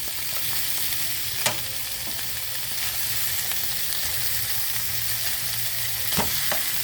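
Sausages and peppers frying in a pan, a steady close hiss of sizzling fat with a few sharp clicks of a utensil against the pan, fairly loud and free of speech.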